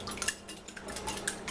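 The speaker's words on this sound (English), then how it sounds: "Mix them up real good." Eggs with a splash of water being whisked in a bowl for an egg wash, light quick clinks and taps of utensil against dish with faint wet sloshing, close and quiet.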